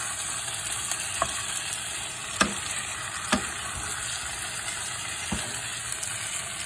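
Onion, garlic and ginger frying in oil in a pan, a constant loud sizzle close by, broken by a few sharp scrapes of the stirring spoon, with no voices.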